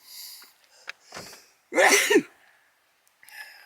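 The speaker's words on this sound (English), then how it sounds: "Oh, I gotta sneeze." A single loud sneeze up close, preceded by a couple of sharp inhaled breaths and followed by a short exhale.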